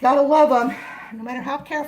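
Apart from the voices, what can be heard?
None of the usual background noises is heard.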